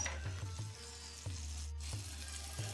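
Mutton seekh kababs fry in oil in a pan over medium flame, a quiet soft sizzle broken by a few clinks and knocks.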